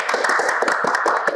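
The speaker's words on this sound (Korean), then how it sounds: "대한민국의 엄마들 박수 한번 보내드립니다." Audience at a Korean parenting talk show clapping for the country's mothers: dense, fast applause from a close crowd, many overlapping hand claps, alone.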